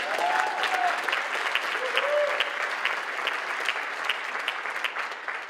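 An audience at a mayor's State of the City address breaks into sustained applause, a dense steady clapping that fills the room, with a voice briefly audible over it at the start.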